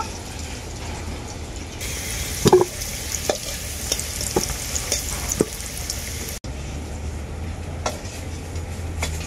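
Potatoes fried red-brown in oil crackle with a steady, close hiss while they are stirred and lifted out, with a few sharp scrape and knock sounds from the utensil against the pan.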